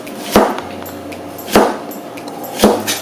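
A knife slices a red onion into thin strips on a cutting board, giving three separate firm chops about a second apart over a low background hum.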